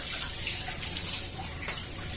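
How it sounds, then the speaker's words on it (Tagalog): Water pours into a baby bottle at home, a steady gushing splash with small surges, close and without talk. "Tapos lalagyan natin ng water."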